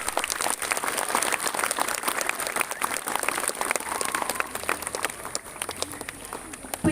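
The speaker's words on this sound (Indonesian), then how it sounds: "Tepuk tangan." Crowd applause at a school ceremony, dense continuous clapping from many people that holds for several seconds, with some voices underneath.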